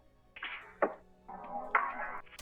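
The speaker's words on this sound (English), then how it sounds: "We got a perk loop from the producer grind drum kit. That sounds like this." A short percussion loop from a producer drum kit, with bright struck and clicky hits in a loose rhythm, two sharper accents standing out among softer sustained tones, fairly quiet and with no voices.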